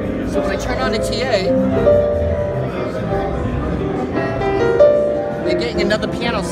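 Yamaha U1 TA upright piano switched to its TransAcoustic digital mode, a short piano phrase with sustained notes and chords, close and fairly loud, with no speech.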